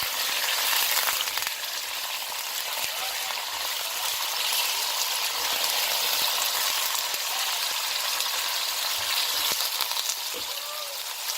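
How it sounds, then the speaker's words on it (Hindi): Onions and goat meat fry in a pan with a loud, steady, close hiss that runs unbroken, dotted with occasional small pops and clicks. "अब इसको भून लेते हैं प्याज को कलर चेंज होने तक"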